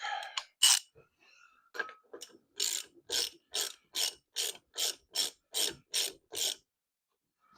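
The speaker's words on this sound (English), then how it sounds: "Having to use a ratchet because you know how sometimes it's too loose for the ratchet, but yet too tight for your hands." A hand ratchet works a fastener on a Falcon car in a welding workshop, giving about a dozen crisp, evenly spaced clicking strokes up close after a few irregular scrapes, with no talk.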